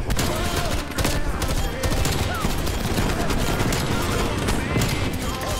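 Sustained video-game gunfire from Call of Duty Cold War, dense rapid bursts that stay loud and unbroken throughout, with shots overlapping and little pause.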